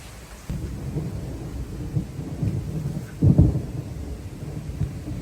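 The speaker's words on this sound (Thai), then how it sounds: "ฟ้าร้องหนักมากเลยนะคะ" Deep, heavy thunder from an approaching storm with strong wind rumbles continuously, swelling into a louder roll near the end, with a faint wash of rain behind it.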